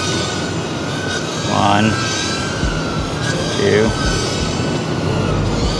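A tiny whoop quadcopter drone's motors run at high throttle in a thin whine with rising swoops as it flies. Someone talks over it throughout.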